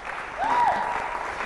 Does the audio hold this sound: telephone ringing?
no